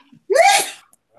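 One short, sharp sneeze bursts out close by, then it falls quiet.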